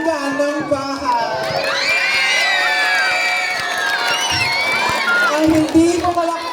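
A pageant audience cheers and shouts, with many high voices whooping and screaming together in a loud sustained roar, and scattered clapping underneath at the start and end.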